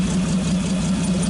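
A 1948 Nash engine idles low with its exhaust pipe fitted, a steady, even rumble that holds constant and smooth without revving, heard alone at moderate loudness.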